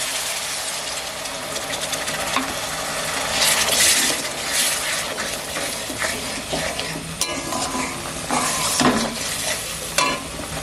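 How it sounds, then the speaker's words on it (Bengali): Water is poured into a pan of cooked-down, sizzling spice paste with the oil separated, for an egg curry. A loud, close frying hiss surges and crackles as the water hits, with stirring scrapes throughout. "কষা হয়ে গেছে মশলাটা দিয়ে তেল ছেড়ে দিয়েছি ধোয়া জলটা আমি দিয়ে দিচ্ছি"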